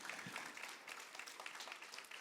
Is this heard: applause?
yes